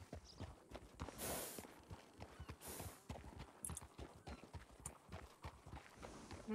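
Horse hooves clip-clop steadily in a ranch roleplay video game, a brisk repeated walking rhythm of clear, close hoof knocks that runs through the whole stretch.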